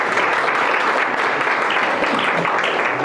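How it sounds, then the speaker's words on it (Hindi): Steady, dense clapping from an audience at a wellness talk fills the moment with an even, loud roar of many hands, with no pauses. "एक बार इनके लिए जोरदार ताली"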